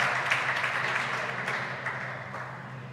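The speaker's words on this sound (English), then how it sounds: "And there we hear the crowd." A crowd at a squash match in the quarter final of the Namibian Open cheers and claps in a broad, steady roar that slowly fades over a few seconds.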